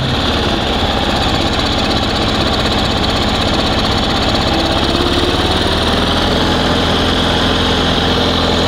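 A Ural Dnepr motorcycle engine idles roughly on one cylinder, a steady loud uneven chugging throb that continues alone and close for the whole stretch.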